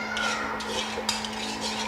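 Ginger being stirred into lemon water, a utensil clinking and scraping against a pot or glass in a steady, close, moderately loud run over a constant low hum.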